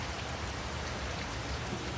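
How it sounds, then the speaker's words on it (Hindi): Steady rain falls on surfaces in a dense, even hiss with constant patter and no pauses. "देखिए बारिश हो रही है"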